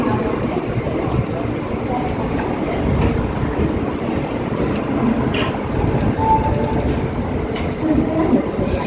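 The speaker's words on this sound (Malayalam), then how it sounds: "മുംബൈ ഗോവ വന്ദേ ഭാരത്. കൊങ്കൺ റെയിൽവേയുടെ ആദ്യത്തെ വന്ദേ ഭാരതാണ് ഈ കാണുന്നത്." The Mumbai–Goa Vande Bharat train on the Konkan Railway rumbles along with a continuous, moderately loud roar of wheels and carriages, with occasional high squeals and clatters over it.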